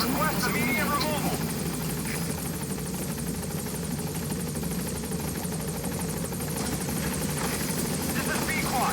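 Support helicopter from the video game Metal Gear Solid V arriving, a loud, steady rotor thrum and engine roar filling the whole stretch, with voices talking over it.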